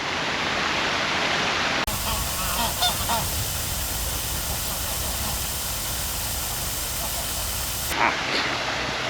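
Geese honk and call from nearby in a Bucharest park over a constant wash of noise, likely rushing water from a fountain, with scattered outdoor sounds.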